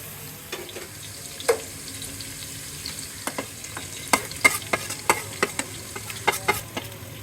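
Onions, garlic, ginger and cinnamon stir-fry in a pan with a quiet background hiss, broken by sharp, irregular clinks and taps of a spoon stirring, growing busier toward the end.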